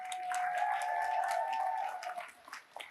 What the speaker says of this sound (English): give a round of applause to all of our volunteers that we had up here